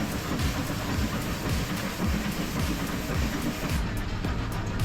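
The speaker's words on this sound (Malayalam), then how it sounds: "ട്രെയിനിൽ ഘടിപ്പിച്ചിരിക്കുന്ന പൽചക്രം കൊളുത്തിപ്പിടിച്ച് മല കയറുന്ന സംവിധാനമാണ് ഈ റാക്ക് ആൻഡ് പീനിയൻ ടെക്നോളജി" A rack-and-pinion mountain railway train climbs toward Ooty, rumbling heavily and steadily nearby, with a rhythmic mechanical clanking and grinding that persists throughout, no voices.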